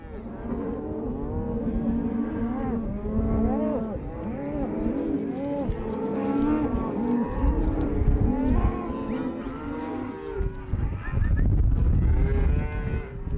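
Cattle on a Montana cattle drive moo repeatedly and overlapping, a herd lowing close by in a steady stream, with a deeper rumbling noise underneath near the end.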